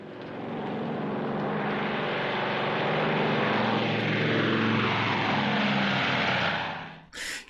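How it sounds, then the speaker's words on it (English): Bomber aircraft taking off: a loud, steady engine roar that swells and holds, with a faint rising tone partway through, then cuts off abruptly near the end. "Tell that bomber to take off."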